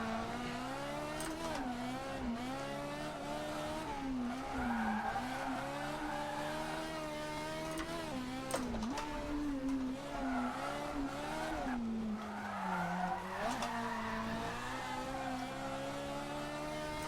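Car tires screeching in an Assetto Corsa race as a handbrake pull and clutch kick throw the car sideways, a continuous wavering engine drone and squeal filling the whole stretch, loud and close with no talk.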